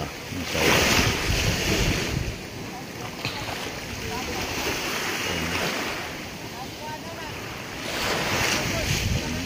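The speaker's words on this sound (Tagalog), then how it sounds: "laki ng alon." Heavy surf of big ocean waves rolls and crashes in broad washes of noise, with strong monsoon wind buffeting the microphone throughout.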